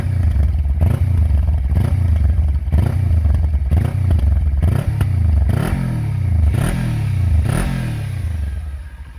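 A Kawasaki Ninja 300 motorcycle on its standard exhaust revving repeatedly, each throttle blip rising sharply then falling away, about eight loud, close rev cycles in steady rhythm.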